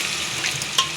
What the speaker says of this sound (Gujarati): અને જો અહીંયા મસ્ત અડદની દાળનો વઘાર થાય છે.